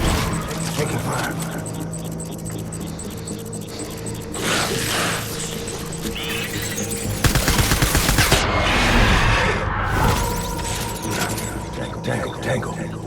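Bursts of gunfire from the video game Death Stranding, rapid volleys and scattered shots mixed with mechanical clatter and music, with a sharp loud burst near the middle; a voice speaks over it.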